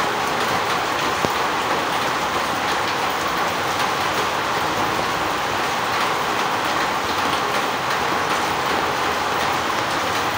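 Steady rain falls without a break, a broad even hiss of drops on surfaces that stays constant throughout, with no voices.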